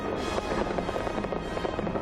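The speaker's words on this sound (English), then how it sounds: "They joined in the party later along the Thames as 20 tons of fireworks" Twenty tons of fireworks burst over the Thames during a riverside celebration, a dense continuous crackle of distant pops and rumbling booms, with no speech heard.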